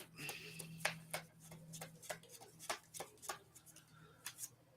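A deck of Magic: The Gathering cards being shuffled by hand at a pauper tournament table, giving a run of quick, crisp riffling bursts at an irregular rhythm over a low steady room hum, close and fairly faint.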